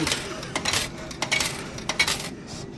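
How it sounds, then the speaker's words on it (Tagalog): Coins clatter down into the change slot of a Japanese vending machine, a string of sharp metallic clinks and small rattles coming in quick irregular bursts, close and clear, with no talking. "hanap natin ito, yung barya, kukunin natin sukle"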